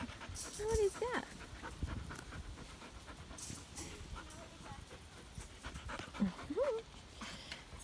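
Puppies pant and scuffle close by while chasing a stuffed toy, quick breathy panting with a few small whimpers, and a person talks over them at times.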